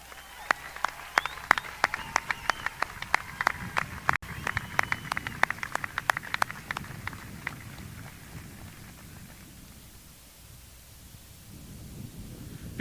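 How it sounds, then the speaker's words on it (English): Applause from a high school graduation audience in 2018 honoring summa cum laude students: scattered, fairly sparse clapping with sharp individual claps that thins out and fades after about seven seconds, leaving a quiet room murmur. "Please stand for applause"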